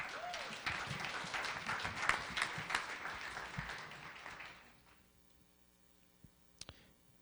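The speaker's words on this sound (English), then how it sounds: "Let's give him a big round of applause." An audience at a student business pitch event gives a presenter a round of clapping that runs loud for several seconds, then fades out, leaving near silence and a couple of faint clicks.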